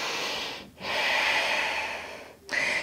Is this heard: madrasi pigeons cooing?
no